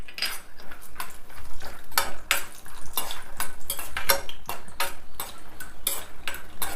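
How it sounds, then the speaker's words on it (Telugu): Peanuts and cashews roasting in hot oil in a pan, with a spoon scraping and clinking against the metal in a regular, repeated rhythm and no talk. "పల్లీలు, జీడిపప్పులు కూడా దోరగా వేయించుకోవాలి"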